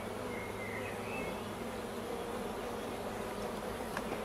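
Honey bees buzz as a steady, faint drone through a spring beehive inspection, a continuous low hum with no voices over it.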